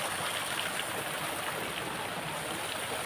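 Spring water feeding a potable supply beside a large swimming pool flows in a steady, soft rushing wash, continuous and fairly faint with no voices over it.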